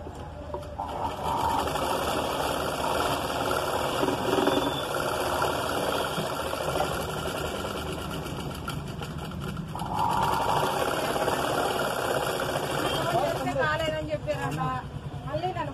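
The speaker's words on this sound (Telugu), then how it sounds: "దీన్ని ఇలా కుట్టుకోవాలి ఇలా కుట్టుకొని ఇలా మనం కుట్టుకోవాలండి నీట్గా ఇలా కుట్టుకోవాలి" Sewing machine stitching a patch onto a blouse, a steady close whirring run that continues for most of the stretch with brief pauses, under a voice talking throughout.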